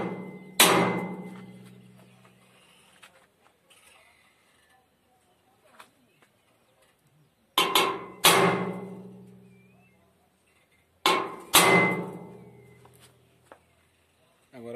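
A hammer strikes a center punch on metal to mark a drilling spot, sending out three sharp, ringing blows spaced several seconds apart with quieter taps and handling noise between them.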